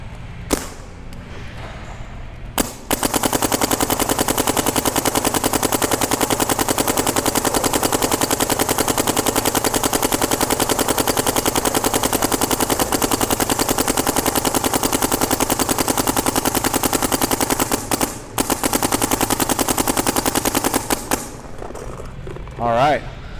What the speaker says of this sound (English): we just shot our first 186 shots out of this thing